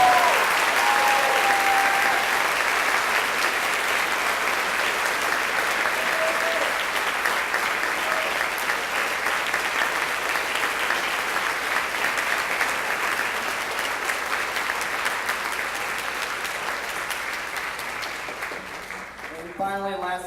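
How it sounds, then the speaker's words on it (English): Sustained audience applause at a spring orchestra concert for the graduating class, a dense, even clapping that carries for about twenty seconds and slowly fades toward the end, with a few faint tones and voices underneath. "Please give a big round of applause to the class"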